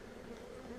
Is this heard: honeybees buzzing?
yes